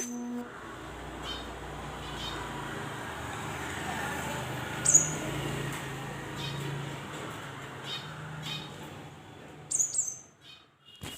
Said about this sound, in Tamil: இந்த சிட்டுக்குருவி எங்கள் வீட்டு ஃப்ரின்ச்சஸும் பேசிக்கிற மாதிரி சவுண்டு இருக்குங்க